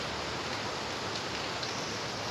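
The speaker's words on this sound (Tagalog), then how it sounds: "Yan, lakas ng ulan." Heavy rain falls at night in Manila, a dense, even hiss of downpour with no breaks, fairly faint and steady, no voices.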